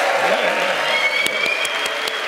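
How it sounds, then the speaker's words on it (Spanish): Studio audience on a Spanish late-night talk show applauding in a steady, dense wash of clapping that holds at even loudness through the whole stretch. "Un aplauso para eso."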